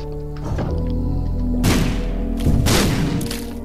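Bombs detonate in The Binding of Isaac, two deep, booming thuds about a second apart over a droning game soundtrack, loud and close.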